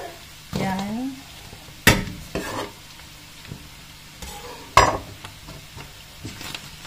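Onion and garlic are sautéed in a pan, a low background sizzle broken by a few sharp utensil knocks and scrapes, with brief faint vocal sounds mixed in.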